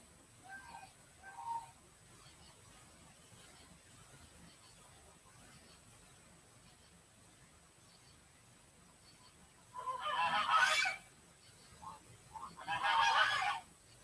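Loud geese honking outdoors in two bursts, clustered near the end after quieter calls earlier, with faint background chatter from fowl.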